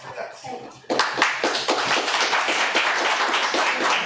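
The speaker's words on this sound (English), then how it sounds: "Big round of applause for our panelists." A crowd applauds panelists at the close of a question session at an Iranian poetry event, clapping bursting in after a short lead-in and holding steady and fairly loud, with some voices mixed in.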